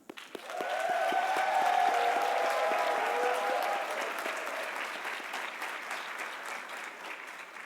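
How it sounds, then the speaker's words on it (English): Audience at a fall 2019 commencement ceremony applauds its graduates, a sustained wash of clapping that swells quickly, holds steady, then slowly thins toward the end, with faint crowd murmur underneath. "Please join me in recognizing and applauding our graduates one more time."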